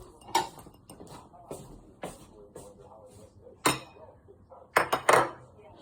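Ceramic plate and bowl clinking and knocking as they are grabbed in a home kitchen, several sharp clattering hits spaced irregularly, with the loudest cluster of clinks near the end; close and fairly quiet between impacts.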